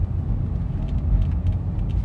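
Toyota Etios Liva 1500 cc petrol engine pulling steadily, a low, even cabin rumble at moderate level with no voices.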